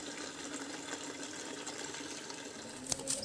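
Tap water running steadily into a sink while boiled pork is washed, a constant close gush with a small splash near the end.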